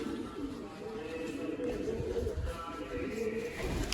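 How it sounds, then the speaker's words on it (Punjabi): Pigeons coo in soft, repeated throaty calls from a loft full of birds, a steady murmur that carries on under a voice. "ਉੱਡਣ ਵਾਲੇ ਕਬੂਤਰ ਇੱਧਰ ਸਾਰੇ"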